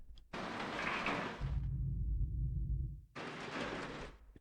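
Layered elevator sound effects built from an industry and construction library: a whooshing mechanical slide, a heavy low rumbling door closure, then another airy slide, moderately quiet with no voices.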